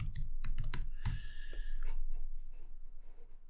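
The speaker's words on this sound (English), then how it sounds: "so let's type it in here" Quick bursts of keystrokes on a computer keyboard, several close clicks in the first second followed by a louder tap and fading quieter clatter, with no talk.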